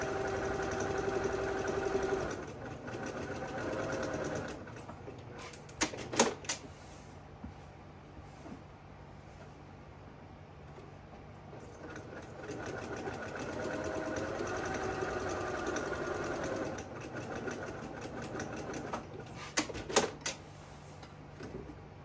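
A sewing machine running bursts of stitching along a 1/8 inch seam on a fusible fleece fabric basket, a fast mechanical whirring hum broken by pauses and a few sharp clicks.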